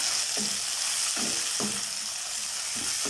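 Tomato fried and stirred with browned onions in oil for a mutton kulambu, with a loud continuous sizzle broken by four spaced scrapes of a spoon against the pan.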